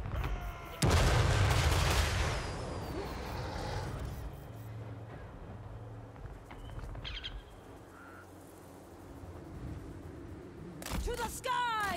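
Artillery fire in the Total War Warhammer III video game, a loud booming shot near the start followed by a rumbling sustained battle din and sharper cracks near the end, with someone talking over it.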